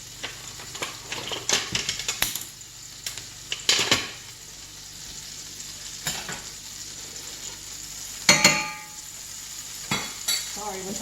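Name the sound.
chicken bacon squash patties frying in a pan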